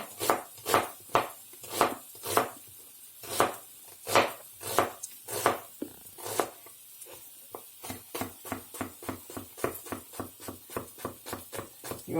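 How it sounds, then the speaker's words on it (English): An onion being finely chopped with a knife on a board, sharp rhythmic thuds that start spaced and irregular, then quicken into a fast, steady run of close, crisp strikes with no voices. "You want to finely chop this onion."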